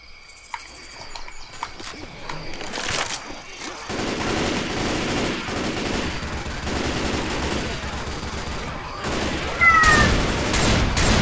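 Video game gunfire in Left 4 Dead 2 mixed with a cat meowing nearby in the room, rapid dense bursts of shooting filling most of the stretch, a sharp meow rising near the end, loud and close.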